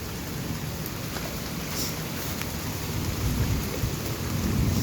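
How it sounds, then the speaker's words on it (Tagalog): Steady heavy rain pours down with low rumbling thunder building underneath, a dense, continuous storm roar with no voices, with strong lightning nearby. "Kasi malalakas yung kidlat."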